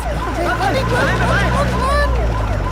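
A police car siren wails with rising and falling tones over engine rumble and crowd chatter, people talking underneath.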